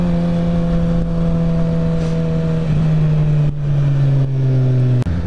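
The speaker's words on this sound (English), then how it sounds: "65 Mustang, nice." A 1965 Ford Mustang drives past, its loud mid-pitched engine note holding steady and close, with the hum of a motorcycle ride underneath and a brief sharp click near the end.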